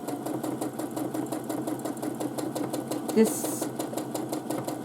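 A sewing machine stitches in free motion quilting with a hopping foot, running a fast, even mechanical rhythm that continues under a person talking.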